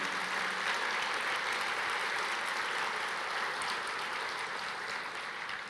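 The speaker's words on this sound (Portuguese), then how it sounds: "Vamos aplaudir ao Senhor, esse texto é lindo." A church congregation applauds, producing a steady wash of distant, even clapping that continues for several seconds at low volume.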